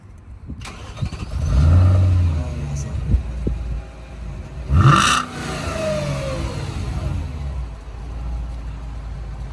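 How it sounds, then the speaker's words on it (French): A car engine cranks and catches, revs up twice with a rising roar, then settles into a steady rumbling idle, close by. "Tu peux nous la démarrer, Théo? On va entendre le son."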